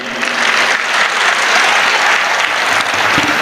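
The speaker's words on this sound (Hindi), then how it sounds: "मरतबा तालियां बजा दीजिए।" Sustained audience applause at a poetry mushaira held at a college in Hyderabad, a dense steady clatter of many hands clapping at fairly close range, filling the whole stretch without any speech.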